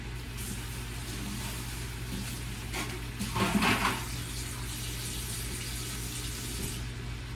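Liquid is poured into a pan while making oven fried pork chops, a soft continuous splashing and trickling over a steady low kitchen hum, swelling briefly midway with no talking.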